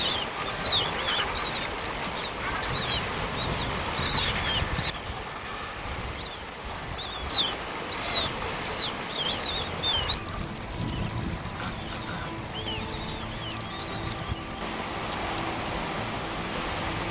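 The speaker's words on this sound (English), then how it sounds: "the Zodiacs toured the ice floes en route back to the ship" Zodiac inflatable boats cruise among polar ice floes, their steady motor and water wash running throughout while seabirds call in chirping bursts above, no voices.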